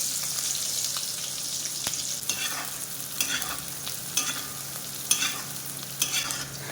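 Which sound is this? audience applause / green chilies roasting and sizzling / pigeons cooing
green chilies roasting and sizzling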